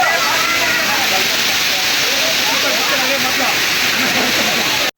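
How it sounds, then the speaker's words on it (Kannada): Sirimane Falls near Sringeri in the forest roars as a steady, loud broadband rush of falling water, continuous and unbroken, with a voice faintly audible over the torrent. "Sirimane falls, Sirimane falls,"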